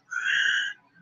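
A voice hums a steady, high-pitched mechanical whine for about half a second, mimicking a freight elevator's first-floor door motor, then stops abruptly.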